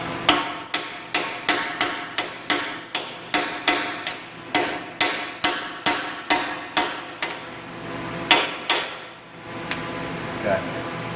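Steady hammer blows drive an axle seal into a 2004 Ford E150 axle housing, about two dozen sharp metallic strikes in quick even rhythm, close and loud, then a few last taps after a short pause.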